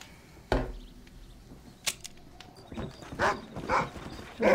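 A dog in the video game Red Dead Redemption barks in short separate bursts, first a sharp single bark, then a quicker cluster of barks and growls, moderately loud over a quiet game background.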